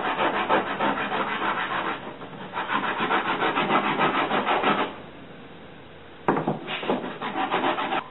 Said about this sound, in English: Now I just need to sand it, and then I'll start working on the clip.